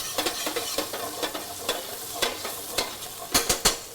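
Garlic sizzles in olive oil in the pan alongside salmon, with a continuous crackle broken by repeated stirring clicks and scrapes that grow louder near the end.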